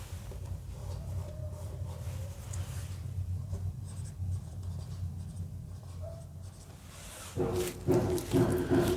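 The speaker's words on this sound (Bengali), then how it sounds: "বিপরীত বায়াসিংয়ের আমি ডায়াগ্রামটা আঁকছি" Hand drawing of a reverse-biasing diagram for an electronics lesson, with close, steady scratching of a pen or marker, and heavier strokes near the end.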